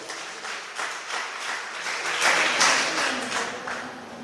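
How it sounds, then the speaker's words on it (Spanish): A church congregation applauds during a Spanish-language sermon, a dense wash of clapping that builds and holds steady for several seconds with no one speaking over it. "¿Cuántos pueden darle una ofrenda de aplausos al Señor?"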